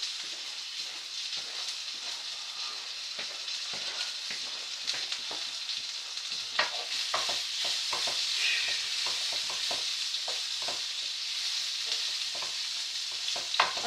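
Sausages and vegetables cook in a pan with a steady, close sizzle and scattered scraping clicks from stirring, no voices present.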